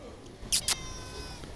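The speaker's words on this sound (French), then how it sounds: "un chat noir et blanc" A black and white cat coming out of a street grate gives two short meows in quick succession, fairly close, over quiet outdoor background.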